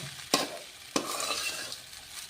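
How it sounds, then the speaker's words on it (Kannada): Coconut chitranna rice is mixed by hand with lemon juice, making soft close-up rustling and squishing with two sharp clicks near the start, and no one speaks. "ಲಾಸ್ಟು ನಿಂಬೆ ರಸ ಹಾಕಿ ನಾನು ಸ್ವಲ್ಪ ಕೈ ಹಚ್ಬಿಡ"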